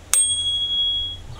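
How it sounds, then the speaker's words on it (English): A small handlebar bell on a Xiaomi M365 electric scooter gives one bright, close ding that rings out and slowly fades over a quiet background. "It even has a little bell."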